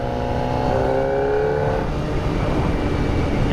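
A 2023 Kawasaki ZX-4RR, a small four-cylinder sport bike that redlines around 16,000 rpm, revs hard while being ridden, its high, rising engine whine sitting under heavy rushing wind noise.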